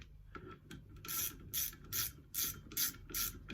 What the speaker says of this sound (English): Now I'm just going to grab the ratchet and I'm just going to go around in a cross pattern and I'm going to tighten these up